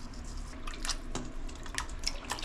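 Water trickling and dripping into a container for a saltwater brine, a steady light splashing stream with small droplet sounds, close and moderately quiet.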